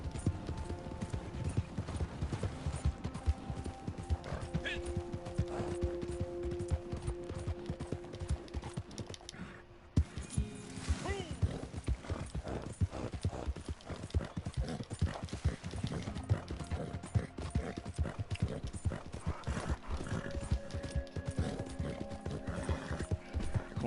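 A horse gallops steadily with rapid hoofbeat clip-clops in the Red Dead Redemption video game, a whinny breaking through near the middle, under faint game background sounds.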